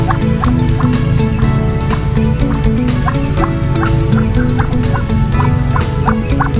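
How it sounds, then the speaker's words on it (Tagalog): A duck and two turkeys call amid a busy poultry yard at afternoon feeding, with repeated clucks and gobbling notes over a dense, constant background of fowl and clatter. "isang pato saka dalawang pabo"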